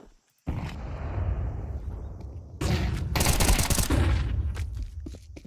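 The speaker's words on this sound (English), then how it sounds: "There's Kyosuke tapping away, bursting away with ease." Rapid bursts of rifle gunfire from a Counter-Strike esports match at IEM Rio ring out alongside explosive blasts, with dense, loud fusillades layered under game ambience.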